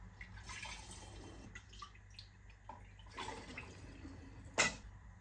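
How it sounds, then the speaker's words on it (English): Rhubarb liquid pours through a colander into bottles, heard as soft intermittent splashing and trickling in short bursts, with a brief sharper clink near the end, close by and fairly quiet. "First put everything through colander. Liquid goes to bottles."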